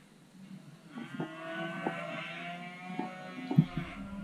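Cows mooing inside a large, dry farm shed, several drawn-out, harmonic lowing calls overlapping at moderate distance, with a faint steady hum underneath and a brief thump near the end.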